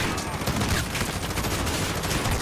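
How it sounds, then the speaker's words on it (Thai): Dense, rapid gunfire from Call of Duty Modern Warfare 2019, a continuous rattling fusillade with no letup across the whole stretch, loud and close. "โอ้มันยิงรัวๆเลยนะ"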